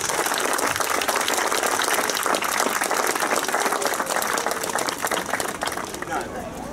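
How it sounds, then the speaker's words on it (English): Crowd at an exhibition launch in Market Square, Dundalk, applauds in a dense, continuous wash of clapping that holds steady throughout, with voices mixed in beneath. "I think we should give them a round of applause"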